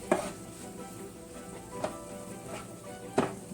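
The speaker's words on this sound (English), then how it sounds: "And we're gonna fry this for maybe another 2 minutes" Nopales cactus frying in a pan with chicken bouillon, a low steady sizzle with a few soft stirring scrapes and utensil taps, close and fairly quiet, no talking.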